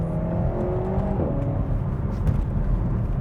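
Car accelerating hard on a wet road, a steady close engine drone with rising harmonic whine and continuous tyre and road noise throughout.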